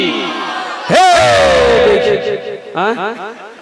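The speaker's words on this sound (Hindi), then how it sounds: "दोनों हाथ उठा के नारा लगा दो, नारे तकबीर" A crowd at a religious gathering roars the Takbir slogan in unison, a loud, echoing mass shout that swells and holds, followed by a second, shorter chorus of voices answering.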